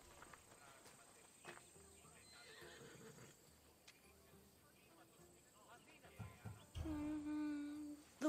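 A horse neighs loudly and close in Assassin's Creed Odyssey, a Thessalonian-bred mount, with clip-clopping hooves and faint background sounds before the whinny rises sharply near the end.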